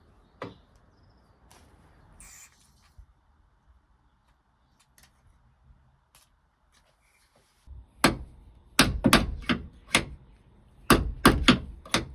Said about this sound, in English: it's clear that I'm going to have to give it a bit of a better whack than that if I want to get these pins out